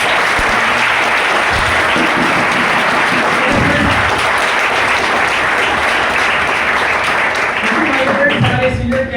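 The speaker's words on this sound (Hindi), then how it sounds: "साथ में एक बार जोरदार ताली, जोरदार" A crowd at a basic training session in Panipat, Haryana claps loudly and steadily on request, a dense, close wash of applause that carries on for several seconds with a voice faintly underneath.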